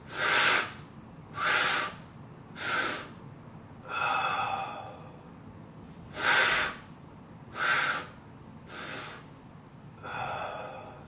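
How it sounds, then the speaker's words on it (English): Deep breaths are drawn in and pushed out through the mouth with pursed lips during a breathing exercise, eight loud airy rushes in a slow, even rhythm, each separated by a short pause and heard close up. "Push your lips out. Inhale through the mouth."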